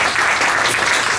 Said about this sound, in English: So if we could just give a round of applause for ASCAP and the work that they're doing